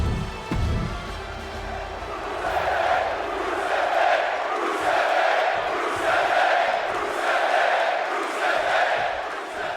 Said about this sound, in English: As they're chanting for Rusev